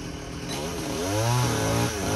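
A chainsaw revs up close while cutting branches of a heavily laden cóc (ambarella) fruit tree in an orchard, its engine pitch climbing and dropping over about two seconds.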